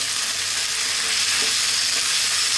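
Lamb pieces for a dopiaza fry in a pan with chopped garlic and ginger, producing a loud, steady sizzle with a couple of faint stirring knocks and no talking.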